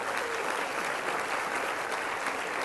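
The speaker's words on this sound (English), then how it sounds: "Please give them a round of applause." Audience applause at a registrar of the year awards ceremony, a steady dense wash of many hands clapping together, sustained and fairly even throughout with no voices over it.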